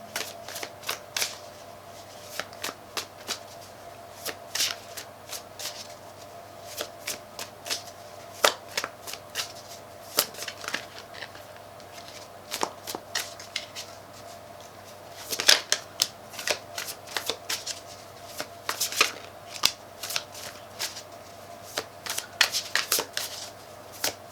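A deck of tarot cards shuffled by hand, with repeated quick riffling bursts and soft slaps coming in uneven clusters, close but quiet, with faint speech here and there.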